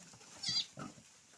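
A couple of short piglet grunts and a brief squeal, fairly faint, with quiet background noise between them.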